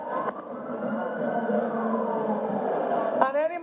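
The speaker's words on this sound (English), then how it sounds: "the sirens wailing will give way to the distinctive bagpipes" Outrider sirens wail steadily in the distance at the presidential inauguration of Bola Ahmed Tinubu, beneath a continuous murmur of voices.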